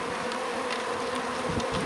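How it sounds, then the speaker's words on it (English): Honeybees buzzing steadily while being installed into a hive after a split from the bee yard, a continuous close insect drone with no talking. "We're installing bees."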